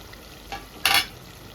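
Tomatoes cooking in a pan for a country chicken curry, with a faint background sizzle and two short stirring scrapes, the second louder and closer.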